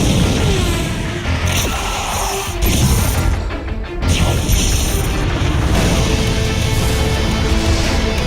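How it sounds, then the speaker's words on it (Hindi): Cartoon phantom blast fire explosion from a Hindi-dubbed kids' cartoon: a loud, dense booming crash that fills the clip, with a brief dip near the middle before the rumbling blast surges back and sustains to the end. "Phantom blast fire."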